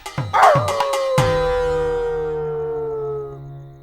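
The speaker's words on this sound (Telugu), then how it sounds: "కుక్కలు ఏడుస్తున్నాయంటే వాటికి ఏదో ఆత్మ కనిపించిందని అంటారు" A dog yips a few times, then breaks into a long, drawn-out howl that slowly fades, with no talking.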